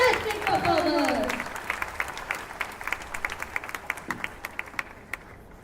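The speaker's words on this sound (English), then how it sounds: "let's hear the loudest applause of the evening" A school annual day audience gives performers a loud round of applause. The dense clapping starts strong and close, then thins into scattered individual claps as it fades out.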